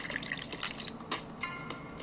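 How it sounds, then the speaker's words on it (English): Green tea poured into a cup in the cooking game Dave the Diver, heard as a thin, steady trickle with small drip-like splashes, fairly quiet and alone without talk. "I need to pour the right amount of tea"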